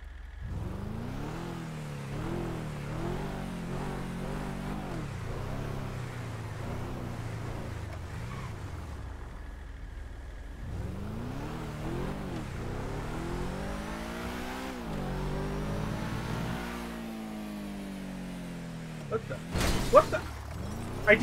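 A car in a police roleplay driving game revs and swerves out of control, its engine whining up and down in repeated surges, with a sharp crash or shatter near the end and talk nearby.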